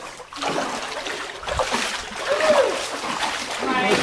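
Splashing footsteps through cold water in the Buckskin Gulch slot canyon, sloshing and trickling close by as a runner wades, with voices talking over the water.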